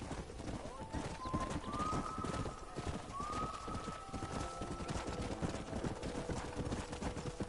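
Horse hooves clip-clop steadily in Red Dead Redemption, a close rhythmic trotting patter running throughout, with a couple of brief whinny-like tones partway through and game voices talking over it.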